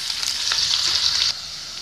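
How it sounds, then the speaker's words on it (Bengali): Chopped onion frying in heated oil for a red sauce pasta, a bright continuous sizzle with light stirring clicks, close up, easing slightly near the end, no voices. "পেঁয়াজটা জাস্ট ট্রান্সলুসেন্ট হওয়া অবধি ভাজবো, বেশি ভাজার দরকার নেই,"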